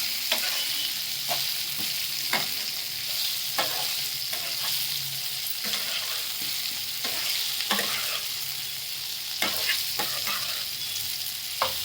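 Colocasia leaf mutkule deep-frying in hot oil: a steady, fairly loud broadband sizzle runs throughout, broken by repeated short scrapes and clinks of a spoon stirring, with no voices.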